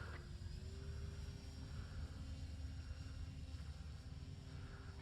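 An E-flite Turbo Timber RC plane flying at night with its electric motor at half throttle, giving a steady, continuous drone with a faint whine, moderately distant and constant throughout.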